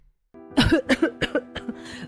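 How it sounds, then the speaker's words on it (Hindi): A woman coughs from cooking-stove smoke in a rapid fit, several harsh bursts in a row, close and loud, tapering off toward the end. "ज्यादा धुआं निकलने लगता है, जिस वजह से वो खांसने लगती है।"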